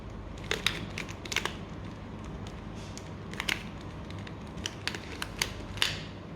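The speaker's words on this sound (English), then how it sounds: "let's just shuffle the cube" A 2x2 mirror puzzle cube is twisted through a scramble, producing close, sharp plastic clicks and clacks in scattered bursts over a steady low background hum.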